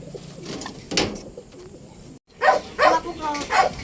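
Racing pigeons coo softly during a pulling race session, with a few low, throaty calls rising over background noise and a brief gap of silence partway through.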